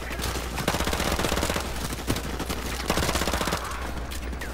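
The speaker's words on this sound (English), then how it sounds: "An Uzi. Man, Uzi's are the best." Rapid automatic gunfire from an Uzi submachine gun in Call of Duty: Modern Warfare Remastered, dense continuous bursts with sharp repeated cracks running throughout, loud and close.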